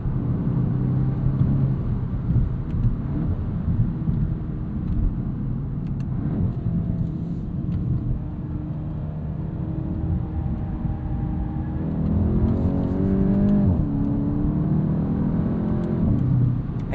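A 2026 Volkswagen Golf GTI S hot hatch accelerating flat out of a corner, heard from inside the car as a steady engine drone and road rumble that swells and rises in pitch near the end.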